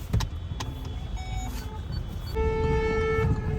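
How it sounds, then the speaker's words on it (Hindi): Busy road traffic with car engines rumbling and several car horns tooting, including a sustained honk near the end, close and fairly loud with no talking. "हम सिर्फ और सिर्फ ट्रैफिक में झूंझ रहे हैं."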